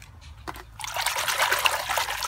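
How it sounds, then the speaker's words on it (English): Water trickles and splashes into a container after a faint drip or two, a soft liquid patter rising and continuing as a drop of detergent is added to the water for hand polishing rocks. "put a bit of detergent in the water, just a drop"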